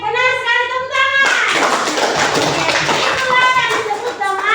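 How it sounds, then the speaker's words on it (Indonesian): Schoolchildren in a classroom break into a burst of clapping after a teacher's lesson, lively and close, mixed with children's voices and a sustained sung or called-out tone at the start and near the end. "tepuk tangan"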